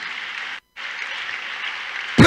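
A church congregation at a night vigil service claps together in a steady, dense roar of applause that pauses briefly, resumes, and is cut into by a loud voice at the very end.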